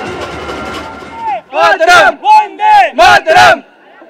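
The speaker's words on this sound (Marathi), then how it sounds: "मरीन ड्राईव्ह वरती तुफान गर्दी झाली आहे" A huge crowd packed along Marine Drive in Mumbai for the Team India victory road show, a murmuring roar swelling into rhythmic, loud chanted cheers in short bursts.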